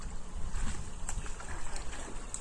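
A small boat moving on a rain-swollen village canal during monsoon flooding, with a steady wash of water and wind noise and no clear talk.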